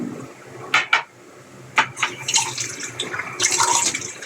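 Rice washed in water in a pot, with swishing and sloshing, a couple of sharp clinks against the vessel, and a rising splashy rinse toward the end, close and moderately loud.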